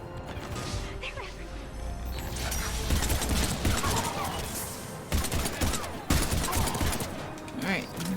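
Gunfire rattles in the sci-fi shooter Mass Effect 3, rapid bursts and mechanical clatter mixed with battle effects, while voices talk over the action.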